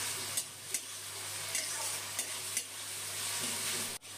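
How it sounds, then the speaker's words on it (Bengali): Ground ginger, garlic and green chilli paste sautés with lightly fried onion in a pan, a constant close sizzling hiss broken by several sharp clicks of a stirring spoon. "এখন এই বাটা মশলাটা কষিয়ে নেব।"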